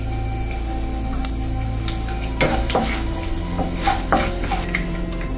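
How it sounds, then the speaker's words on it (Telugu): Mustard seeds, urad dal, chana dal and cumin fry in hot oil for a tempering, sizzling steadily with crackles and a few sharp spoon-against-pan clinks and stirring scrapes, close and without talk. "పోపు వేగిపోయిందండి."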